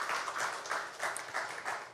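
A church congregation claps together during a Sunday worship service, making a soft, steady patter of applause that sounds distant and faint.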